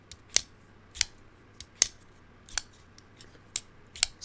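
Vosteed Sheepsfoot Raccoon pocket knife with ceramic bearings flicked open and shut, giving sharp, bright metallic snaps spaced about every half second, close and loud against a quiet background.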